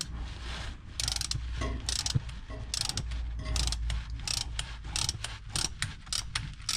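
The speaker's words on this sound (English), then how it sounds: "Torque wrench." A torque wrench ratchets on the running gear of a Land Rover Discovery 3, a close, quiet series of rapid clicking bursts with short pauses between strokes and no talk.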